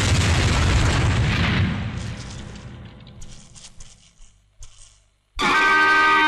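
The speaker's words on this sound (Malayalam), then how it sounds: "അയ്യോ ബോംബ്." A bomb goes off in a Malayalam film, a loud booming blast that rumbles and slowly dies away into scattered softer sounds before another abrupt loud burst cuts in.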